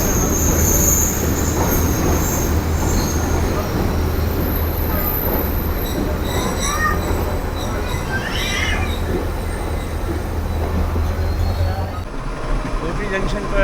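The Shah Latif Express rolls into the Kotri Junction yard with a loud, continuous rumble and rattling wheels, brief high squeals of the wheels on the rails, and a voice talking over the noise.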